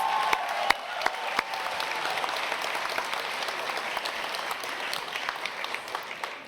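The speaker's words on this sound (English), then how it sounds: "Can we give a round of applause for these beautiful outfits?" Graduation audience applauding steadily throughout, a dense sustained wash of many hands clapping with a few sharper individual claps standing out early on.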